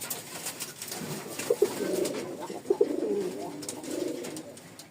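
Lotan and Lakkha fancy pigeons coo repeatedly in rolling calls against a busy background hum, close and clear, with no speech heard.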